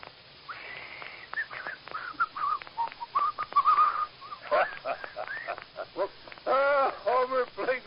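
A man whistles a wavering, uneven tune on a lonely road in an old-time radio drama, the thin tones rising and bending in short phrases, with a few soft breathy sounds between them.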